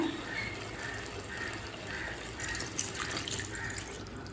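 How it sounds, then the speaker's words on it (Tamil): Half a cup of water trickling and splashing quietly into a pressure cooker of chicken gravy, with soft drips and a gentle running flow, fairly faint and close. "இப்போ இது கூடவே நம்ம 1/2 கப் தண்ணி சேர்த்துக்கலாம்."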